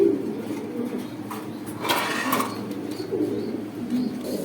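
A large male Serazi pigeon coos in a pigeon seller's loft in Gazipur, Dhaka, with a few soft, low, rolling calls rising close by over a dull room background.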